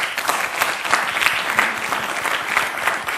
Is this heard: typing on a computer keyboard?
no